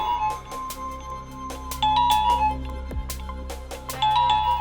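A phone ringtone plays a repeating electronic melody over a low steady hum, cycling several times without pause.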